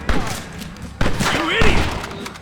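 Gunshots in the video game Red Dead Redemption, with a couple of sharp, loud reports over a background battle din, and voices shouting in between.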